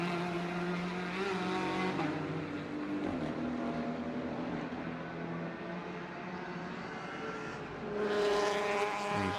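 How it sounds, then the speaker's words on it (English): A BMW race car on a road course at night during a 12-hour endurance race roars loudly past, its engine note shifting pitch as it goes by, with another burst of engine noise rising near the end. "In comes one of the throttle BMWs."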